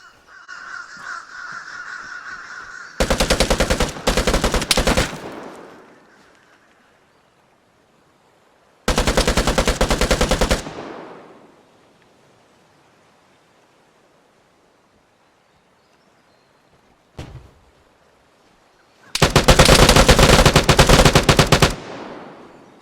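Three loud bursts of automatic gunfire in the video game Vigor, each lasting a couple of seconds, separated by quiet gaps, with a single short shot between the second and third.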